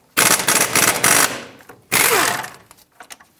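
A power tool, likely an impact gun, rattles in two loud, close bursts while removing caliper bracket bolts on a 2007-2014 Chevrolet Silverado 2500 HD, with a brief pause between the bursts.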